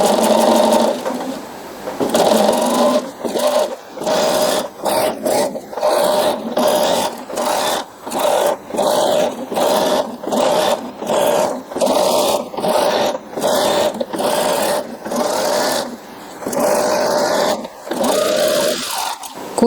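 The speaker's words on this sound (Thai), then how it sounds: "เย็บโดยขอบตีนผีอยู่ขอบผ้า" A domestic sewing machine runs in steady bursts, stitching fabric with the presser foot along the cut edge, its close, loud whirring motor and rapid needle clatter stopping and starting repeatedly, with no talking.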